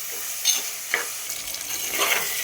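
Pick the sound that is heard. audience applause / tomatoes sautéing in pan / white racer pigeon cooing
tomatoes sautéing in pan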